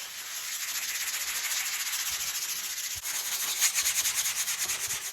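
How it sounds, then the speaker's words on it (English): Sandpaper rubs back and forth over a drywall repair patch on a damaged painted wall, making a steady, close, rhythmic scratchy hiss that runs the whole time without speech. "Now, once you're done sanding, go ahead and make sure that it's nice and smooth."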